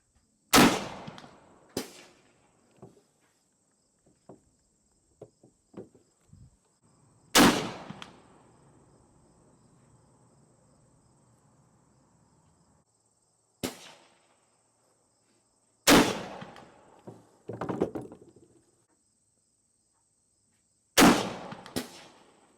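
A Danish Model 1848 Tapriffel, a 173-year-old rifle, fires five sharp, loud gunshots spaced several seconds apart outdoors. Each is followed by a brief echo, with small handling noises in between and no one speaking.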